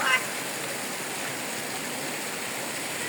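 Kabuayahan Falls and its stream make a steady broadband rush of falling water, close and unbroken, with a brief splash at the very start and a voice faintly present.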